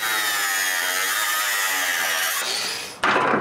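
A ratchet wrench works on seized trailer bolts with a steady, whirring mechanical drone that shifts pitch and then cuts to a harsher, louder grinding burst near the end, close up with no talking.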